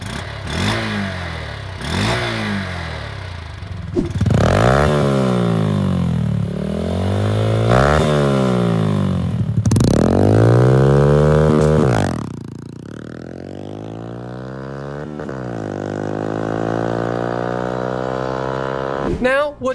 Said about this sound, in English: let's start it up real quick and show you what she sounds like